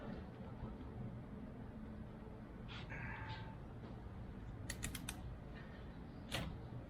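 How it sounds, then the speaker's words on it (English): A torque wrench ratchets and creaks while tightening the harmonic balancer bolt on an LS engine during an accessory install, with a few short clicks and creaks over a steady low shop background. "You're torquing, you want to do smooth motions."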